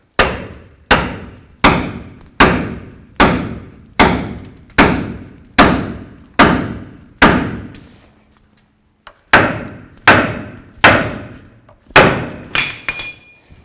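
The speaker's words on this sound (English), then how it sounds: "Take your pickle fork and your little hammer," A small hammer strikes a pickle fork to split a ball joint on the front upper control arm of a 1988-2002 GMC Sierra 1500. Around ten sharp, ringing metallic blows land at a steady pace, then a brief pause before several more.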